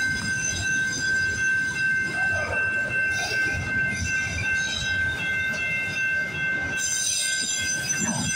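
A CN freight train rolls past a trackside railfanning spot at Osler Street in Toronto, wheels squealing with a sustained high metallic tone over a close, heavy rumble of cars.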